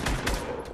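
A sniper rifle shot in the Fortnite video game, with a couple of quick sharp reports packed into under a second amid game noise.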